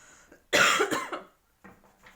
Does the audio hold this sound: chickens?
no